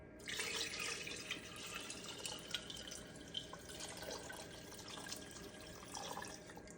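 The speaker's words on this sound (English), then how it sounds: "let me just get another 4 cups of water" Tap water runs steadily into a jar of eggs, a continuous splashing, gurgling stream that stays close and fairly loud throughout, with small drips and bubbling over the flow and no talking.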